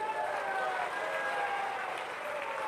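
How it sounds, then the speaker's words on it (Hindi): A large outdoor crowd at a memorial inauguration claps to welcome the chief minister, a sustained, even roar of applause with a faint tonal hum running beneath it. "ताली बजा करके आप लोग स्वागत करिए"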